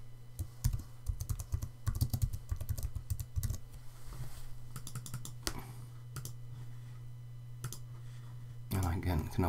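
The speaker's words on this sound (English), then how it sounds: "I can start typing." Irregular clicking of keys on a computer keyboard, close up, in short bursts with pauses, over a faint steady hum.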